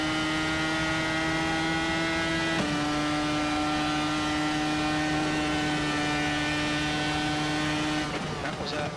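The Dallara IR01 race car in iRacing howls around the Sao Paulo Grand Prix circuit, a steady high-revving engine tone that drops sharply at two gear changes, with no talk over it.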